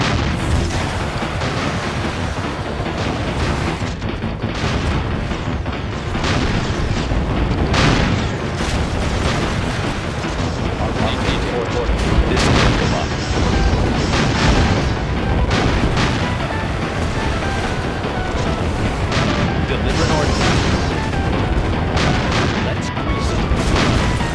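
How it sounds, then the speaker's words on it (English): Bombs and artillery exploding in the strategy game Red Alert 2: Yuri's Revenge, dense loud booms and blasts layered continuously over battle noise for the whole stretch, with game voice lines mixed in. "Bombs away."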